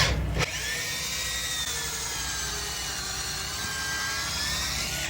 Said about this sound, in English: And drill a pilot hole for the screw.